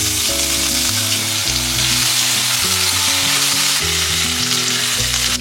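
Crushed ginger, garlic and green chilli frying in ghee and oil with bay leaf, whole garam masala and peppercorns for chicken pulao, giving a steady loud sizzle throughout with background music playing.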